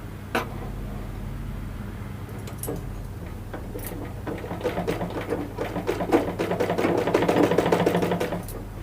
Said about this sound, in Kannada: ನೋಡಿ ಇವಾಗ ನಾನು ಮಡಿಸಿ ಹೊಲಿತಾ ಇದ್ದೀನಿ